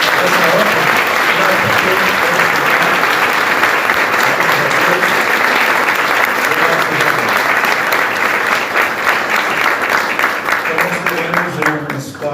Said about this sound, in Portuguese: Vamos aplaudir a Deus por essa obra.